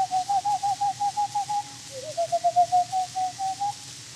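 A man whistles an imitation of a stormy petrel, also called Mother Carey's chicken, calling out of fog at sea: a close, steady run of short rapid chirping notes that break briefly, then carry on in the same pattern.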